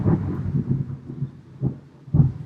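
Thunder from a storm outside the house rolls in a few muffled, low pulses, fairly close but softened by walls, with no speech over it.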